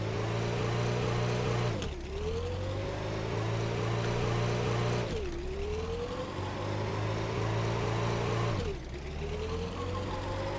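An early 90s regular cab pickup towing a trailer pulls away from a standstill, its engine climbing in pitch through the gears with two clear drops at the shifts, loud and steady throughout.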